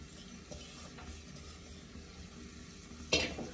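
Boiled rice stirred into vegetable biryani in a pot, a soft steady scraping and shuffling close by, ending in one louder clatter of the spoon against the vessel.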